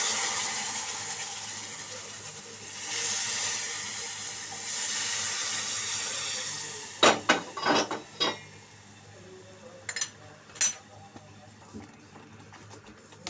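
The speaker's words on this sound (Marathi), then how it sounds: "मी हे पाणी याच्यात ओतायचं आहे" Hot water is poured into roasted semolina in a pan for sheera, giving a steady hissing pour for several seconds. A few sharp clanks of a utensil follow, and someone speaks alongside.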